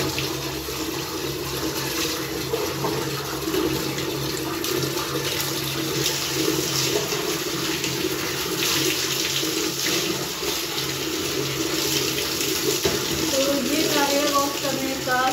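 Water running steadily from a tap while hair is rinsed clean after washing, a continuous splashing rush that lasts throughout with no break.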